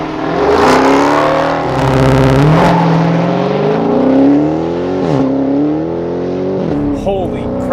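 Engine of a 2020 Dodge Charger SRT Hellcat widebody, 718 hp, revving hard on launch control, a loud, close, rising and falling roar with sharp throttle blips toward the end.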